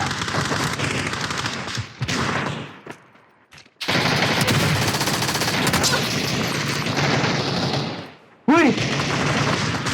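Automatic gunfire in PUBG, a P90 among the weapons, crackles in long dense bursts with brief gaps, loud and close, while players talk excitedly over the shooting.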